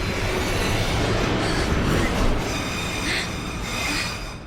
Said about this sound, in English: Then a rumbling builds in the distance. It is an oncoming train.